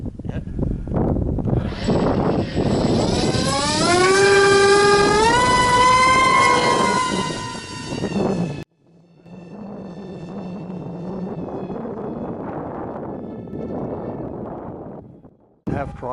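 Electric pusher props on a Multiplex TwinJet RC model plane whine loudly up close, the pitch climbing steadily as the motors spool up, then cutting out briefly before a lower, steady running drone resumes and stops again.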